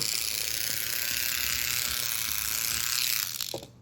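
A noisy Tomy Thomas toy train motor with a flipping axle gear runs with a steady, close grinding whir and ratcheting gear chatter, then cuts off near the end.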